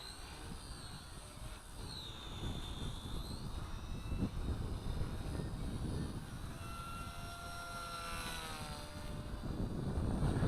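Small RC helicopter fitted with K110 K123 blades flies nearby, a continuous faint rotor whine and motor buzz that shifts in pitch as it maneuvers, with wind-like rumble underneath and no talk.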